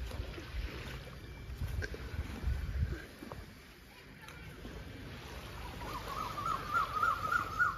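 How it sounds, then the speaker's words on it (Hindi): Koel calling on a local island in the Maldives (Dhiffushi), a bright repeated whistled call rising near the end over wind and outdoor background noise. "कोयल की आवाज़ सुनो"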